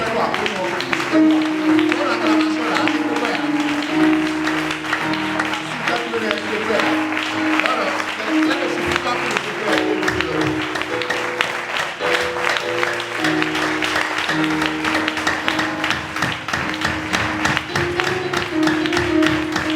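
A church congregation at a seminar claps and acclaims steadily, sustained applause and clapping mixed with shouting voices and music for about twenty seconds, loud and continuous throughout.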